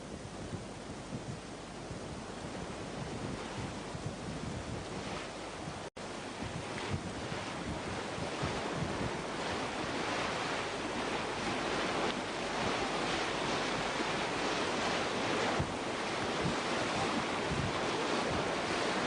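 Rough sea waves surge and break continuously during a sea kayak race, with heavy wind buffeting the microphone throughout and no voices, a steady loud wash of surf and spray.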